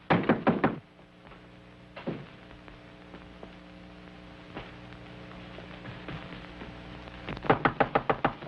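Knocking on a locked wooden door in a 1930s mystery film: a quick burst of several knocks, a few isolated thuds, then another rapid series of raps at the end, over steady low hum and hiss.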